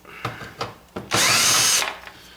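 A power drill removing small screws from an air conditioner being scrapped: a few sharp clicks and knocks, then one loud, close whirring burst lasting under a second before winding down.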